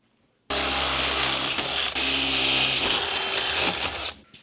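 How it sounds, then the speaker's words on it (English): Steady loud buzzing crackle of a welder joining a drill-powered tongue jack adapter, running continuously for several seconds with a brief dip midway before cutting off. "So we're gonna weld it in place."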